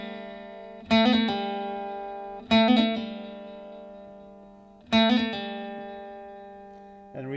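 Guitar hammer-on and pull-off phrase, played as three separate bright plucked attacks that each ring out and slowly decay, heard alone and up close.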